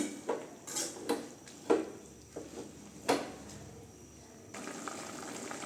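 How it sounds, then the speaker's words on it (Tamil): A utensil stirs greens in a metal cooking pot, giving several irregular clinks and scrapes against the pot. A soft, steady simmering hiss follows near the end. "சரி நல்லா கிண்டி விட்டுக்கலாங்க அப்படியே வேகட்டுங்க கீரை"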